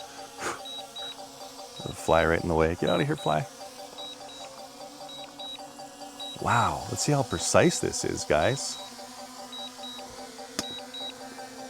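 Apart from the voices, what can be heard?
drone obstacle sensor beeping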